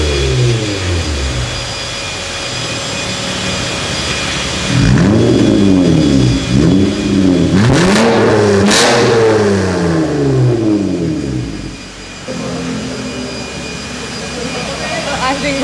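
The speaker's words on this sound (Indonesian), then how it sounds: "Langsung kalian denger nih V6-nya dari Honda Accord." Honda Accord V6 engine idling, then revved hard several times in quick succession with rising and falling roars, before settling back to a steady idle; voices talk briefly over it.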